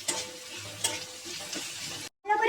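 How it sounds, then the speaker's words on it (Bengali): Ginger garlic paste sautéing in a pan for fish fry, a quiet continuous sizzle with two soft scraping taps from stirring, close by, broken by a brief dropout near the end. "কষিয়ে নিচ্ছি। দিয়ে দিচ্ছি আদা রসুনের পেস্ট।"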